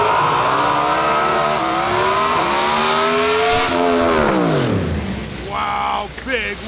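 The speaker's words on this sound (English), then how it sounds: "pair of nitrous Mustangs pulling up" A pair of nitrous Mustang drag cars launch during qualifying at the Lights Out 17 drag race: a loud, close roar climbs in pitch, peaks, then drops and fades, followed by a brief second rev near the end.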